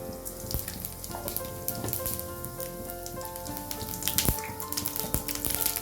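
Steady sizzling and crackling of cumin seeds frying in hot oil for tempering, a continuous hiss with scattered pops and clicks, no one speaking.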